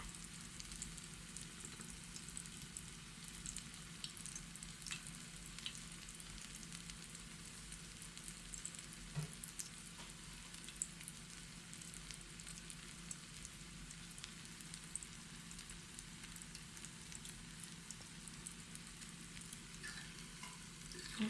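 A fluffy, crisp Thai omelette with cha-om leaves fries in a pan, producing a faint, continuous crackling sizzle with occasional small pops throughout.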